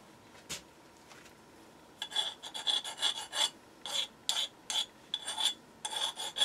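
A machined steel column part for a steam engine being deburred with a file: bursts of short scraping rasps in an irregular rhythm, close and fairly crisp, with no talk.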